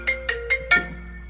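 Phone ringtone for an incoming call: four short bright electronic tones in a quick rising pattern, the last one sustained and fading, loud and close with no talking.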